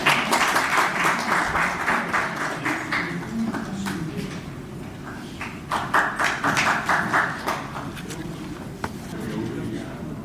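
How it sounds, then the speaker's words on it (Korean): Audience at a Korean journalists' association opening ceremony applauding as the chairman comes forward, a continuous wash of clapping with scattered louder claps and knocks, a voice briefly audible underneath. "앞으로 오실 때 박수로 받아주시기 바랍니다"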